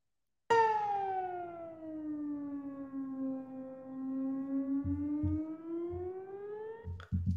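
A single sustained synthetic tone on Polypad sonifies the graph of y equals one half x squared. The pitch slides down, then rises again in a smooth sweep like a siren, moderately loud, with faint clicks near the end.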